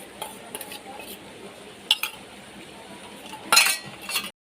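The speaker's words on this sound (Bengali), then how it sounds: "আমি ভালো করে কষিয়ে নেব" A spice paste of chili and cumin powders is stir-fried in a pan for a hilsa fish curry, with a soft steady sizzle under scattered spoon scrapes and metallic clinks, one louder scraping burst near the end.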